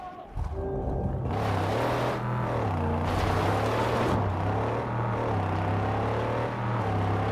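A humble buggy engine in the Mad Max video game revs hard, then holds a loud, steady droning growl with slight pitch swells for several seconds, close and dominant.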